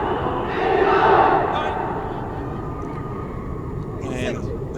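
Rugby supporters in the stands at a women's sevens match between Thailand and China raise a cheering, chanting crowd roar that swells early on and then holds steady under the broadcast.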